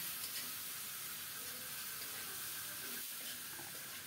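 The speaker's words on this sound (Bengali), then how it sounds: "এখন ফোটানো গরম জল দিলাম" Boiled hot water is poured into a pan of eggplant spiced with salt, turmeric, chili powder and tomato, giving a steady hissing, splashing pour that stays fairly faint throughout.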